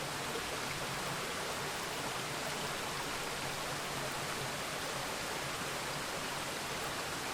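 Deafening, steady roar of Trümmelbach Falls, a glacial waterfall of ten cascades carving spiral gorges inside a cliff in the Lauterbrunnen valley, Switzerland; dense broadband rushing water fills the whole stretch without a break.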